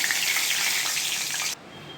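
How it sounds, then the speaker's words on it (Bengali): Cumin seeds and two bay leaves hit hot oil that was just used for frying, giving a loud, steady hiss that cuts off abruptly partway through. "সাদা জিরে আর 2টো তেজপাতা ফোড়নে দিয়ে দিলাম"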